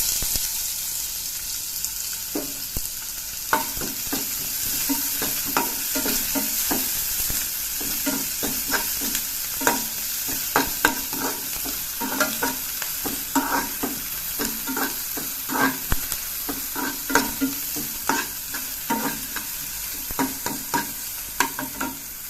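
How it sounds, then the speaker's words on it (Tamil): Onions dropped into hot oil for capsicum chicken fry, a continuous bright sizzle close by with frequent scraping stirs and light spatula taps throughout, no talking. "எண்ணெய் சூடு ஏறிச்சு. இப்போ வெங்காயம் சேர்த்துக்கிறேன்."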